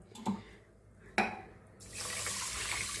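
Water is poured into rice for an electric cooker, a faint gentle trickle and two soft knocks at first, then a steady close splashing stream.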